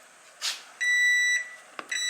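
Short electronic beeps from shop vacuum equipment, a couple of sustained high tones with a soft rustle and a click between them.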